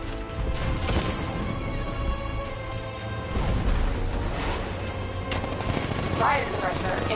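Heavy cannon fire from an unmanned tank in Chinatown in a Batman video game: loud, continuous, rapid bursts of gunfire with crashing impacts, broken by brief pauses.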